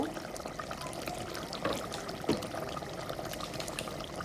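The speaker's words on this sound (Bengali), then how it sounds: "আমি আর একটু জল দিয়ে দিব" Water is poured into a pot of meat being browned for a curry, a faint trickling splash with a couple of brief clinks against the cookware.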